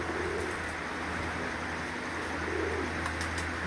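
Pigeons cooing on a Lahore rooftop, a couple of soft, low coos rising over a steady background hum and faint chirps, with no one talking.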